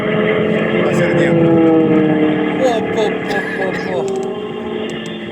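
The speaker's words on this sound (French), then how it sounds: "le moteur Moki, c'est ça. Hein. Ça, c'est un 150 cm3." A Moki 150 cc gasoline engine on a giant radio-controlled F4U Corsair plane drones steadily and loudly at an airfield, with a sustained harmonic hum, while people talk over it and a few brief whistles sound.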